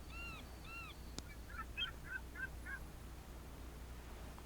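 Birds on a shoreline in the virtual world of the Second Life game give two faint honking calls, then a quick series of soft chirps, all quiet over steady low ambient hum.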